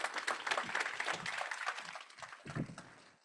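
An audience claps after a keynote at a federal quantum computing summit, moderately dense applause that thins and fades toward the end.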